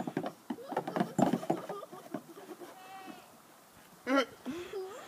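Goats bleating on a farm while boys play with them, with a loud wavering bleat near the end, rustling and scuffling earlier, and faint voices in the background.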